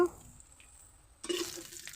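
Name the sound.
prawns frying in a pan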